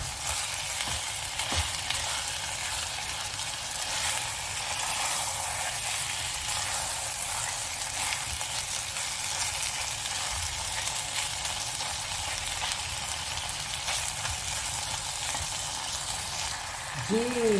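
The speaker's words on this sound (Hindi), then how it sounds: "मद्रासी चिकन करी का मसाला गया है भुन" Madras chicken curry masala paste frying in about three tablespoons of oil, a steady close sizzle running throughout with occasional stirring scrapes and a faint voice now and then.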